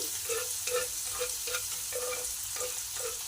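Mustard seeds, cumin, chopped onion and dried fenugreek frying in oil hiss steadily in a pan, with a regular series of soft spatula scrapes as the mixture is stirred; no voices.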